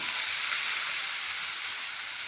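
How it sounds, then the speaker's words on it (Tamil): Small onions and tomatoes cooking in a pan for mutton kulambu give off a soft, continuous hissing sizzle, steady and unbroken, with no voices. "தக்காளி போட்டுக்கலாங்க."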